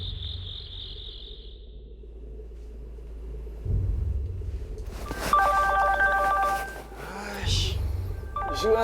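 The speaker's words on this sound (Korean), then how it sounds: "핸드폰 벨소리가 요란하게 울리는 겁니다." A mobile phone rings loudly at night in a quiet setting. After a faint insect-like chirp and low rumble, a bright electronic ringtone with tonal chimes and a sweeping tone takes over in the second half.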